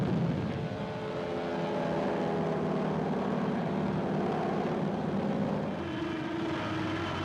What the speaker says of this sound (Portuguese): Um avião a jato ataca nossas tropas.